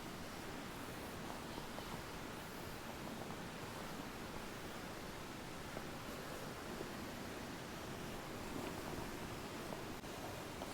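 Air rushing out through the front valve as a MOBI GARDEN inflatable mattress is pressed flat and rolled up, a steady broad hiss lasting throughout with faint rustling and no talking.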